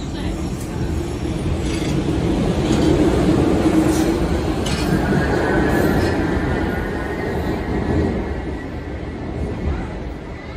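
A Boston subway train bound for Braintree pulls into a station, a loud continuous rumble of wheels and mechanisms with faint metallic clinks and a thin squeal rising near the middle.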